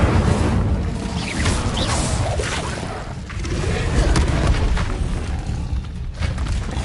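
The Incendio fire spell in Hogwarts Legacy is cast as a roaring burst with booming whooshes and crackling bursts, loud and close, swelling and ebbing over several seconds.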